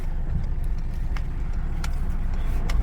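A taxi drives through Kyiv, its road and engine noise forming a steady low rumble inside the car, with a few faint clicks and small knocks over the top.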